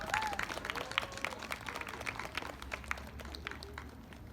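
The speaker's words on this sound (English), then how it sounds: "Let's give them another round of applause" Applause fills an elementary school rewards assembly as students are honored, a dense, steady wash of many hands clapping at moderate volume, with a few faint voices mixed in.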